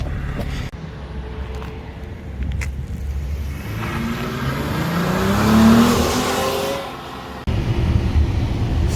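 A Dodge Challenger GT with a 3.6-liter engine cruises along, a steady low engine drone with road and wind noise, swelling slightly midway before a brief dip and return.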